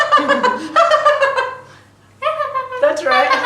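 A person's voice imitates a kookaburra call in a children's ESL classroom game: a rising and falling laughing cackle in two bursts separated by a brief pause, loud and close.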